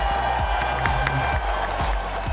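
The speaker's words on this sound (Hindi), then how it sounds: "अपने लिए खुद ही तालियां" A short burst of hand clapping, quick and fairly faint, rises over a steady low background hum for about two seconds.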